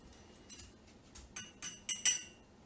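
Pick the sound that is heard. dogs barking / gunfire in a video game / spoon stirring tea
spoon stirring tea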